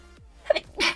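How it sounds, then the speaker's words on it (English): One sharp sneeze, a quick intake followed by a loud close burst, then silence. "I'm going to sneeze."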